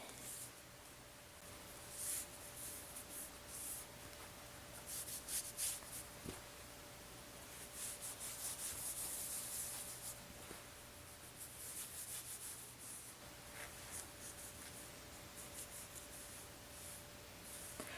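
A Viva paper towel is rubbed over buttercream on a carved boot cake, giving soft, quiet scuffing strokes that come and go against a faint background hum.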